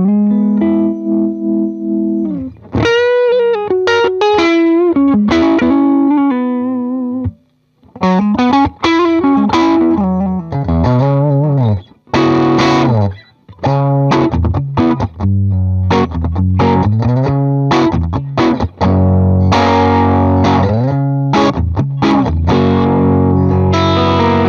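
Electric guitar played through a Line 6 Helix modeler with a light, near-unity-gain Klon-style overdrive, emulating a Vox AC15; loud, close strummed chords and single-note lines with mild grit, brief pauses between phrases, no talking.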